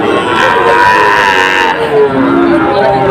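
Cattle at a busy livestock market in Madaripur, with Sahiwal bulls among them, low loudly and continuously up close, several long overlapping moos rising over a dense hum of crowd noise.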